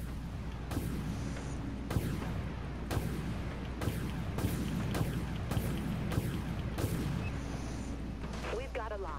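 Heavy weapon fire from warships in the game Dreadnought, a steady series of booming shots roughly once a second over a constant low engine rumble, with voices speaking over it.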